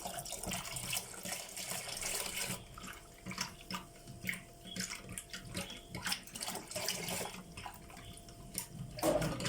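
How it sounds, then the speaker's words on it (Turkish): Hot water pours steadily into a pot of whisked yogurt for Turkish tirşik, a continuous close splashing and gurgling stream that shifts in tone partway through. "Şimdi buna sıcak su ekleyeceğim."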